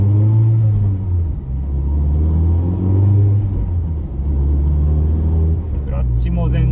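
A Mazda Roadster 1.5 with an aftermarket muffler rumbles low and steady at idle with a deep but not loud exhaust note, swelling slightly at times while someone talks over it.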